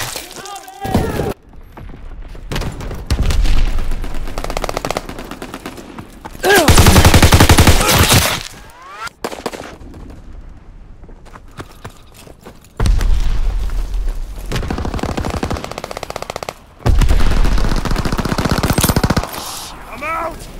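Mortar rounds and rapid gunfire in Call of Duty WWII multiplayer, loud bursts of automatic fire and heavy blasts coming in several long volleys separated by brief lulls, with game voice lines mixed in.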